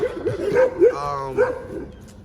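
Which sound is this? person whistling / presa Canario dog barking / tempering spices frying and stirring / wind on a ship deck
presa Canario dog barking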